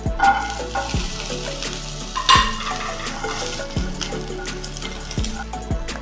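Green chillies and 3-4 garlic cloves sizzle and crackle in a dry pan with no oil, with repeated scraping stirs against the pan at a steady rhythm and no talk.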